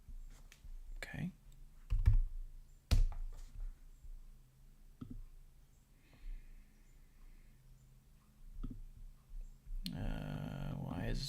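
Close computer keyboard typing in quick bursts of key clicks while working in Tableau, with a person speaking softly at times between the keystrokes.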